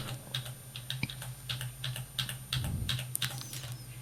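Keystrokes tap at a close computer keyboard, a steady patter of light clicks with a few quick doubled presses, quiet, over a faint electrical hum.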